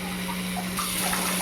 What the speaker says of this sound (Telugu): ఇప్పుడు నీళ్ళు యాడ్ చేసేసుకుందాం